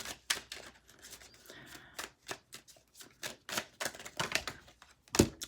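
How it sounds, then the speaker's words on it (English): Tarot cards spill and slap down in a rapid series of crisp papery flicks and shuffles, close and fairly loud, with several sharp taps and one heavier thump near the end. "So many cards just fell."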